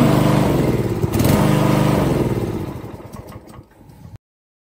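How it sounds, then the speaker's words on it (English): A radio-controlled wheeled grass cutter, model VTW550-90, runs its small engine loudly and steadily nearby with a rough, clattering drone, then winds down and falls silent after about four seconds. "Pull start the engine."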